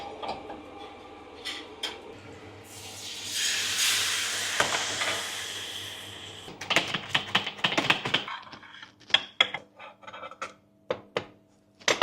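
Food frying in clarified butter on a tray at a late-night eatery in Elazığ, cooked and flipped on both sides: a loud, close sizzling hiss swells for several seconds, then gives way to a run of sharp metallic taps and clatters, with no talking.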